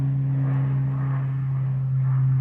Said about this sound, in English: There's another aeroplane.